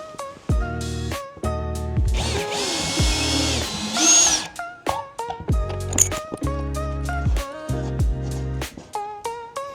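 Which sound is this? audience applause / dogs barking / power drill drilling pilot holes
power drill drilling pilot holes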